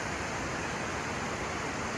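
A roadside waterfall in the Cascades roars as a steady, dense, broadband rush of falling water, constant and close with no pauses.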